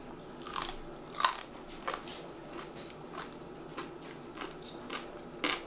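Several crisp, loud bites and crunches into a crunchy baked potato, with quieter chewing between them, close up and with no talk.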